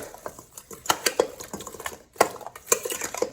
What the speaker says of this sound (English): And I'm gonna give it a quick stir